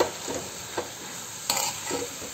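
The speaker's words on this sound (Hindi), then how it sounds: "बस उसको अच्छे से मिक्स कर लेंगे और उसको भी थोड़ी देर ढक के पका लेंगे।" Food being stirred and mixed in a pan while it cooks, giving a soft continuous sizzle with a few brief scraping strokes of the spoon at intervals, fairly quiet and heard alone.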